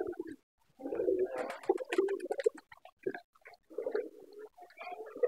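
Lakka pigeon cooing near its cage, a few low, soft burbling coos in short bursts, close by, with some faint rustling between calls.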